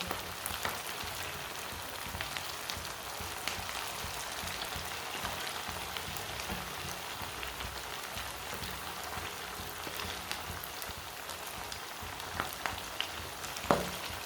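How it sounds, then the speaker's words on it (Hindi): Steady dense crackle of food frying in a pan, a constant even hiss with small pops throughout, close and alone with no voices. "अब 2 मिनट के लिए इसे फ्राई होने देते हैं"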